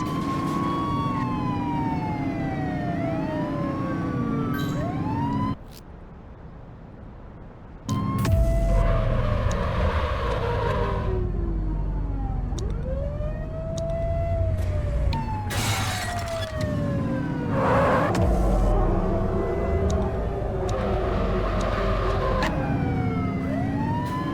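Police sirens wail during a car pursuit in The Precinct, several loud sweeping tones overlapping almost nonstop, broken by crashing, shattering hits, engine roar and a brief drop-off partway through.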